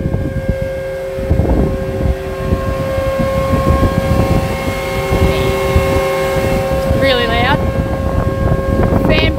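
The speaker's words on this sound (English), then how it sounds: "The noise you can hear is a fan." A steady mechanical drone with tonal hum from an air seeder's fan running continuously, loud and close, with a brief whining rise near the end.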